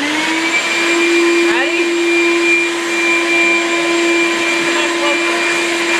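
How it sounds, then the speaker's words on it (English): A shop vac runs with a loud, constant whine while vacuuming a dog, the motor droning steadily up close as someone speaks briefly over it. "he likes the shop vac"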